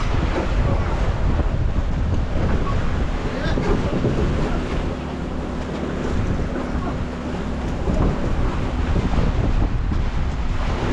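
Steady wind roars across an open sea around a small fishing boat at night, a constant broadband rush with buffeting on the microphone and no clear breaks.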